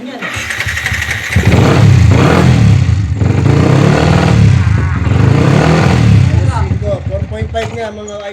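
A motorcycle engine fitted with a new Solfili fuel pump assembly cranks and catches about a second in, then runs loud and close with a steady, slightly uneven idle to the end.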